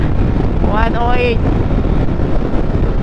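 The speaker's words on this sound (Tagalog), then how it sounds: "Wala, malakas yung hangin." Strong wind roars over the microphone of a 2024 Honda Click 125i V3 scooter running at top speed with a passenger, a steady loud rush with a voice briefly speaking over it.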